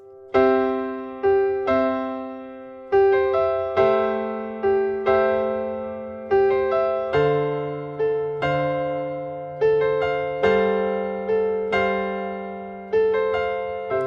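Piano chords play in a steady syncopated rhythm, each struck chord decaying before the next, moving through a repeating progression without any voices.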